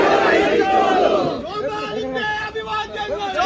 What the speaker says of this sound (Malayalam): മുദ്രാവാക്യങ്ങളും ആർപ്പുവിളികളുമായാണ് ജനക്കൂട്ടം മുഖ്യമന്ത്രിയെ വരവേറ്റത്